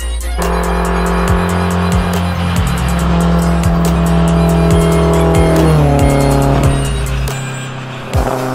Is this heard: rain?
no